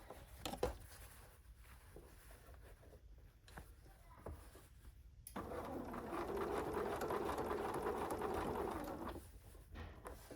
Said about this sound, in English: I'm sewing right to this point right here.